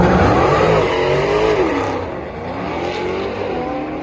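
A Dodge Charger spins its tires at a drag launch at Irwindale Dragstrip, a loud, continuous engine roar with wavering revs and a brief dip midway before it surges again, heard close with no voices.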